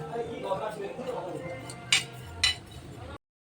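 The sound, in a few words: stirring fenugreek and carom seeds in a hot pan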